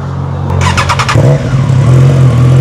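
A loud Triumph Trident 660 motorcycle engine with an AK550 exhaust and resonator idles, then revs in a quick series of sharp blips before settling back into a steady, throaty rumble.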